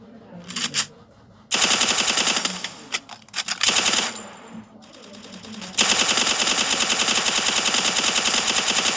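UMP submachine gun fire in a shooter video game: short automatic bursts, then a long sustained stream of rapid shots, loud and close, with faint voices beneath.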